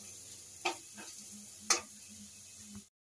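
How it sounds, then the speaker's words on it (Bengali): Onions browning in oil in a pan give a steady soft sizzle, with two sharp clinks of a spatula against the pan and a few quieter stirring scrapes, close by, no talk. "দেখো পেঁয়াজটা আমার লাল লাল করে ভেজে নেওয়া হয়ে গেছে"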